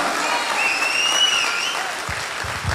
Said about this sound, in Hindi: जोरदार ताली होना चाहिए सब लोगों के लिए